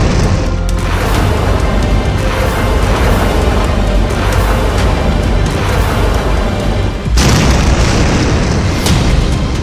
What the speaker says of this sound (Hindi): जब ईरान की ये मिसाइल अपने टारगेट पर गिरती है तो धमाका ऐसा होता है।